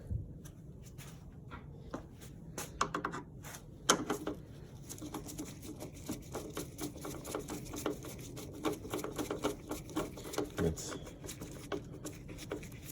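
Screw being driven into the front bumper of a 2010 Mazda 3, a faint rapid clicking of a ratcheting tool with scattered small taps, close but quiet.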